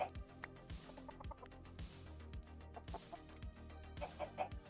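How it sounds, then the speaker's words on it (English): Chickens cluck repeatedly in a video game, a series of short close clucks in an uneven rhythm over a low pulsing game background, fairly quiet overall. "That's a lot of chickens."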